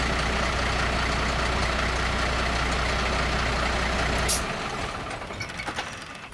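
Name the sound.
HGV truck idling while brake air pressure builds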